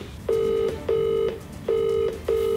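A UK phone call rings out unanswered, with four evenly spaced ringback tones, each lasting about half a second and separated by short pauses. The tones are clear and steady over a faint background.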